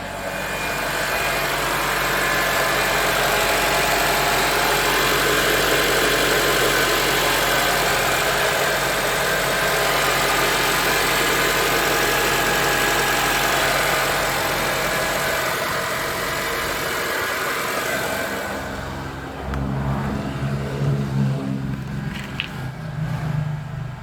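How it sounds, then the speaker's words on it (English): A Honda Stepwgn's 2.0 litre K20A3 petrol engine idles with a steady, even hum and light mechanical clatter, heard up close. Near the end the tone drops and a few louder thumps break in. "at idle it all seems pretty smooth and everything"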